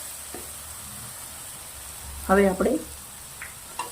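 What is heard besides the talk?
tomatoes with salt being roasted in a pan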